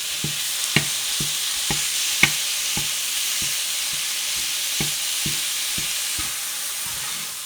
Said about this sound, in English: And then we're just going to introduce our meat to the conversation. And just get that nice and broken up.